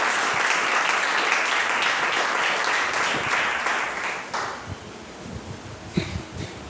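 A church congregation at a family worship service claps together in a dense burst of applause that fades after about four seconds into scattered claps and soft room noise.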